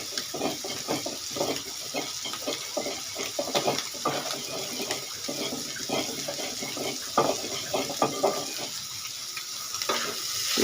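Shrimp fry in a pan with a steady, dense sizzle and crackle, broken by frequent stirring scrapes, close and continuous for the whole stretch with no talking.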